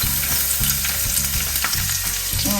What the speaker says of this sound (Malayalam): എണ്ണയിലേക്ക് നമുക്ക് നമ്മൾ അരിഞ്ഞു വെച്ചിരുന്ന ഇഞ്ചിയും വെളുത്തുള്ളിയും ഇടാം